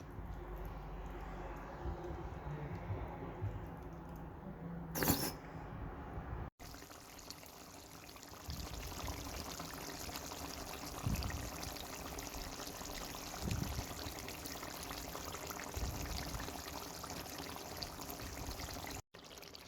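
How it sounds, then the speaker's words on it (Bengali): Cooking oil is poured onto spiced raw beef and tomato for a beef bhuna, giving a faint, steady liquid trickle that runs quietly for a long stretch. "সবশেষে অ্যাড করছি পরিমাণ মতো তেল"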